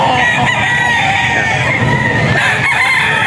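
Roosters crow loudly and close at a farm breeder's sale in Bocaue, with fowl clucking and busy market noise filling the background.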